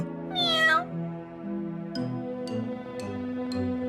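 A pet cat named Tutu gives a single clear meow near the start, alone, over a soft tonal music bed with a few light ticking accents afterward.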